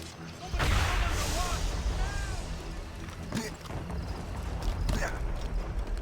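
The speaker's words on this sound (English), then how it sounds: "Is that a ship mortar?" Loud booming cannon-like blasts and crashing effects from a ship mortar during a naval battle in Assassin's Creed Rogue, thick with dense battle noise and overlapping voices.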